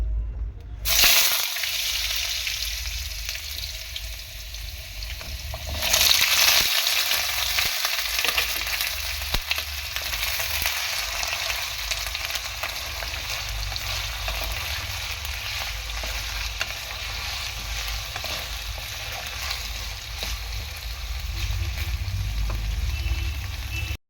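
Potatoes frying in a pan for a bottle gourd curry, a loud, dense, continuous sizzle and crackle close up that begins sharply after a brief pause and holds steady with no speech.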